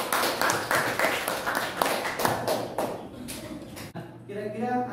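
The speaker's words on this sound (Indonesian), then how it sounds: "Oke, beri aplaus." A classroom group gives a short burst of applause, rapid overlapping claps for a few seconds that fade out, followed by a voice starting to speak.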